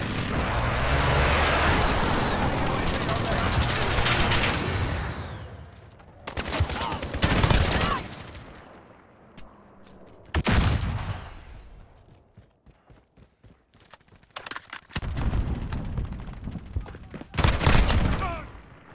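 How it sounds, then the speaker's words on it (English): Heavy explosions and gunfire in Call of Duty: Modern Warfare during a friendly precision airstrike, with loud roaring blasts in bursts around 6–8 s and again near 15–18 s, between stretches of distant rumble and scattered shots. "Be advised. Friendly precision airstrike inbound."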